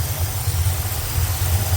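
A 1975 Corvette engine idles after a carburetor adjustment, with a steady low, rumbling drone that stays even and fairly loud throughout, with no talk over it.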